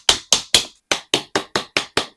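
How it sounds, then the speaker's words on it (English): Sharp, evenly spaced hammer blows knock plastic shoe rack parts into place, nine crisp taps in a quick steady rhythm with a brief gap after the third. "and then hammering them in place."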